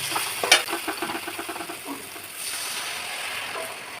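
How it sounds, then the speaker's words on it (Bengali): Water poured into spice paste frying in oil for a river-fish curry, a sharp splash and hiss at the start easing into steady bubbling sizzle with faint stirring scrapes, close and alone. "দিয়ে দেবো জল।"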